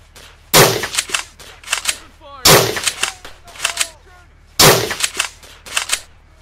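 Three loud, sharp gunshots in the World War II shooter Easy Red, spaced about two seconds apart, each followed by a short echoing tail, with shouted voices between the shots.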